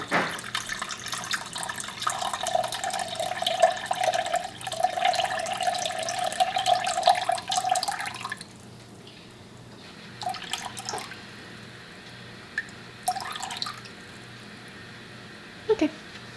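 Water pours from a tap into a measuring container for a soap-making lye solution, a steady trickling rush lasting about eight seconds, followed by quiet handling clinks and a few brief drips.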